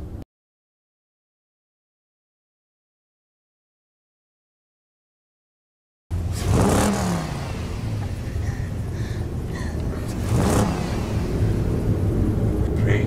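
A car engine revs and rumbles loudly in a night-time horror film scene, cutting in abruptly after several seconds of silence and then holding a heavy, steady roar.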